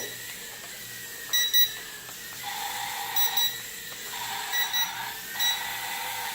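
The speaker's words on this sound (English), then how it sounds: "Got 2 beeps, 1 beep, 2 beep, 1 beep." Short electronic beeps in alternating pairs and singles from a BoldClash B03 Pro micro drone's radio transmitter, clear and close, over a faint steady hum.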